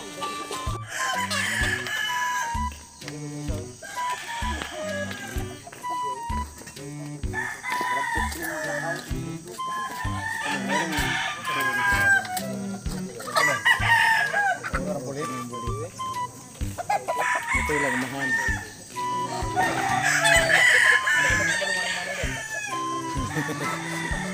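A rooster crows repeatedly amid lively outdoor chatter and laughter, its calls rising over the voices at intervals.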